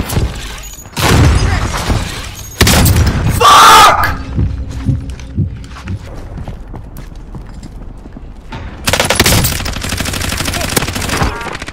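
Loud bursts of automatic gunfire and impacts from a match of the shooter video game Warzone, with rapid clusters of shots separated by quieter stretches of game sounds.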